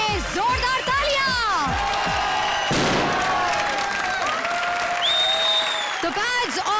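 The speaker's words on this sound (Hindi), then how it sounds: "चारों टीम्स के लिए जोरदार तालियां" Studio audience applause at a live Hindi comedy TV show welcoming four teams, a loud, dense burst of clapping with cheering, mixed with music and stage effects sweeping across it.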